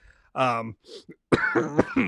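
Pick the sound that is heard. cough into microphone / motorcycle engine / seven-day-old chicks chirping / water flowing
cough into microphone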